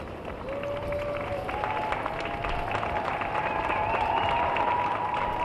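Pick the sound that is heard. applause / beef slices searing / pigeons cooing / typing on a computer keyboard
applause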